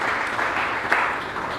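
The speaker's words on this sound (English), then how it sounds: "Round of applause for him, please." Audience applause fills a university hall at a World Philosophy Day celebration, a steady dense patter of many hands clapping at moderate loudness, with a slightly sharper burst near the middle.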